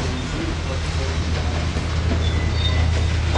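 A steady low rumble of a train rolling past nearby in Durand, Michigan, continuous and fairly loud, with faint rattling over the top.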